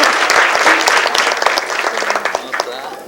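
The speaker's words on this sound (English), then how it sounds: "You can clap for her, go ahead." Banquet audience applauding a woman's name being called, loud dense clapping from a crowd indoors that fades gradually over a few seconds, with a voice faintly mixed in.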